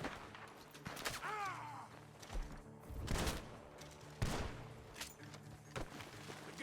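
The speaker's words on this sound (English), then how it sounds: "The gunshots are coming from that barn." Gunfire in the Red Dead Redemption II video game during a barn shootout in Rhodes, several sharp shots and volleys cracking out irregularly over a busy game soundscape.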